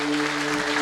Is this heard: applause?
yes